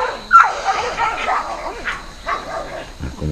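On a wild boar hunt, a foxhound or beagle barks, yips and whimpers in short bursts close by, while people talk loudly at the same time.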